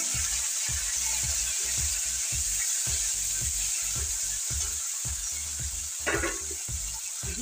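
Fish sizzles and fries steadily in hot oil tempered with black cumin seeds, with a strong continuous hiss, regular stirring scrapes and a brief clatter near the end.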